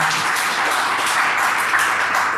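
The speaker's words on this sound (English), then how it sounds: "Let's give him a round of applause" Audience applause at a breakfast club talk, a dense, steady wash of clapping hands heard close and fairly loud for the whole stretch, with no voices over it.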